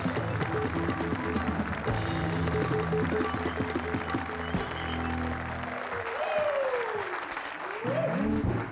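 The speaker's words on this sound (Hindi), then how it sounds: "जोरदार तालियों से स्वागत कीजिए" Studio audience on a Hindi talk show greets the guests with loud, sustained applause that fills the whole stretch, dense and steady, with some musical or crowd noise mixed in.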